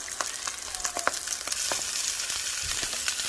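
Steelhead trout fillets searing skin side down in a pan over medium-high heat, a steady sizzle with crackling pops and spits, close and continuous, no talking.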